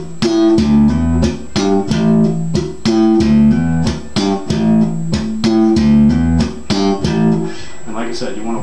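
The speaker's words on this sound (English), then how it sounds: "or another hammer on, and then also muting with a different string." Slap bass with hammer-ons and muting on a different string, a loud, busy repeating groove of thumped and muted percussive notes, played alone for several bars.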